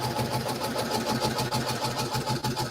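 A home quilting sewing machine with an auto-raising presser foot runs steadily, its fast mechanical whir and rhythmic needle chatter continuous and close, with no voices over it.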